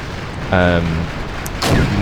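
Cannons fire in Wargame: European Escalation, a real-time strategy game: a loud booming blast, then a second heavy report about a second later, sharp and close.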